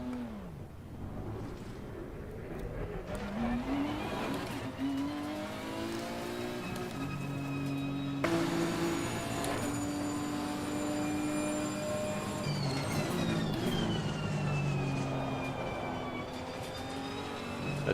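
Race car engine in Assetto Corsa Competizione lapping a circuit, a steady loud drone with rising and falling pitch through gear changes and throttle, sustained revving throughout without speech.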